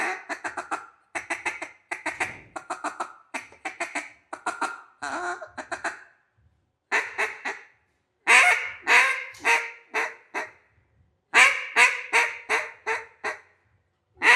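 A hand-blown duck call sounds a loud series of rapid quacks, then continues lower and softer in short bursts with gaps, mimicking ducks drawing closer; close and alone, no talking.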